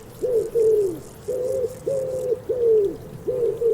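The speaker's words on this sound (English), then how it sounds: "It sounds like there are wood pigeons roosting nearby." Wood pigeons roosting in woodland coo nearby in a repeated rhythmic series of soft, hooting phrases, with faint background hiss and no talking.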